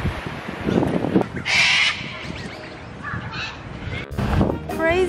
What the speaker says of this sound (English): there's so many cockatoos here